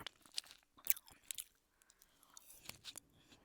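A frozen grape bitten and chewed up close, with crisp crunches and wet squishing in short irregular bursts, a louder bite near the start and softer mouth sounds after.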